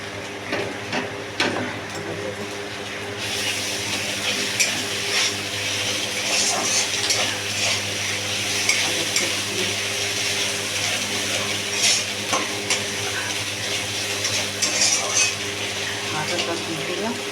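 Ginger paste fries in a pan with a continuous sizzle, while intermittent scraping and clinking of stirring sound through it. A voice is also heard talking.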